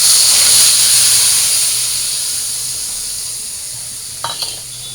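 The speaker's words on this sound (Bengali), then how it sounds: "এখানে হলো হলুদ, তারপরে শুকনো মরিচ, কাঁচা মরিচ আর হলো ধনিয়ার লবণ। তো তেলের মধ্যে দিয়ে দিই।" Turmeric, dried chilli and green chilli hit hot oil with a loud, steady hiss and sizzle that gradually settles, followed by a couple of soft clinks near the end.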